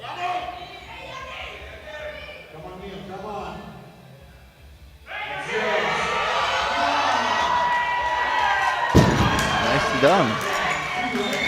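At the 2026 European Open Classic Powerlifting Championships, an arena crowd bursts into loud, sustained cheering and shouting for a lifter's attempt after a quieter opening, with commentators talking over the noise.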